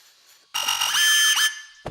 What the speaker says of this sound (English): Fucking smoke detector in the bathroom.